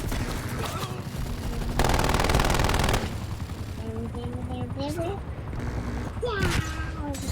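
Video game gunfire comes as a continuous loud burst of automatic fire, with sporadic shots and game effects before and after it, under excited shouting from players.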